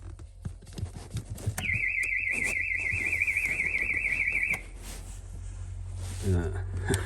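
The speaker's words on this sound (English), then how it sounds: "That's the alarm immobilizer, I guess." A Porsche 928's alarm immobilizer emits a warbling electronic tone that pulses rapidly for about three seconds over rumbling engine noise and muffled movement, then cuts off.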